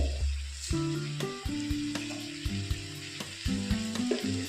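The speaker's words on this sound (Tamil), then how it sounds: "தக்காளி போட்டு தக்காளி வதங்கிறதுக்கு" Tomatoes sautéing in a pan for a chicken gravy give a steady sizzle, with clinks and scrapes of stirring layered over it and a few tonal metallic rings, close by with no talking.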